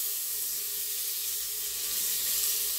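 Whole chopped onion dropped into hot butter in a pressure cooker for pav bhaji, giving a steady, loud, close sizzle that holds evenly throughout with no talking.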